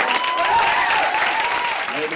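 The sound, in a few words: audience clapping hands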